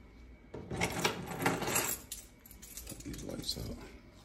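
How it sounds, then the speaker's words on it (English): A set of keys jangles and clinks as it is picked up indoors, a close, bright metallic rattle in several quick bursts lasting a few seconds. "Grab my keys."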